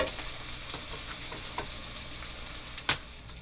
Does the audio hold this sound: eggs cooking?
yes